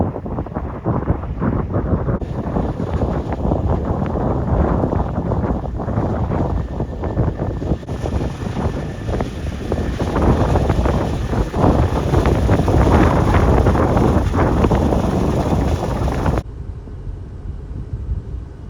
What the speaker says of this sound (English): This wind is starting to get up fairly well.